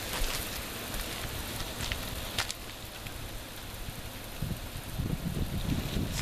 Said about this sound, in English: now we get a solid stream like it's pouring down rain.